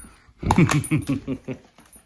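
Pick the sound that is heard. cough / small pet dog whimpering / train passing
small pet dog whimpering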